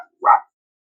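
A dog in a yard gives a single short, sharp bark. It stands alone against silence.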